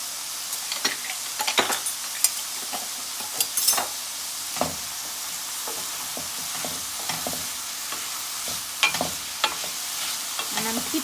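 Vegetables stir-frying in a pan with red chili flakes give a constant bright sizzle, punctuated by spatula taps and scrapes at irregular intervals, close up and without speech.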